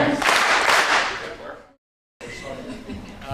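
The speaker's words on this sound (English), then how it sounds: "If you're happy and you know it, clap your hands." An audience at a Dalai Lama Center event claps along to "If You're Happy and You Know It", a loud burst of many hands that fades, then a short silence, then a softer patter of clapping.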